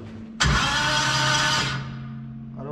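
A 1.5JZ car engine being cranked, starting abruptly with a loud, steady whirring drone that keeps going for over a second, then drops to a quieter hum as it winds down.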